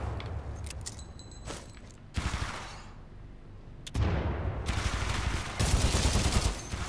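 Gunfire in the video game Titanfall 2: loud bursts of rapid automatic shots with heavy blasts and rumbling, separated by brief quieter gaps, close and dense.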